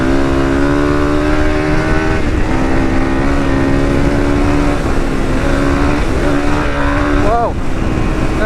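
A CRF300 motorcycle accelerates hard and lifts into a wheelie at about 90 km/h, its engine drone loud and steady, rising in pitch near the end, with heavy wind rush throughout.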